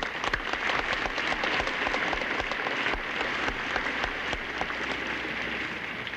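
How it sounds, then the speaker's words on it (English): Steady applause from a crowd at President John F. Kennedy's 1962 Inaugural Salute, dense clapping with no voices, holding at an even level throughout. "I wish we could all just applaud them."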